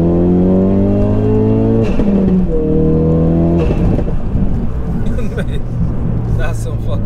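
A 430bhp Ford Focus RS estate driven on a greasy road, its engine loud and close, revving up in strong rising pulls with a pause between them, then a rougher, busier stretch toward the end.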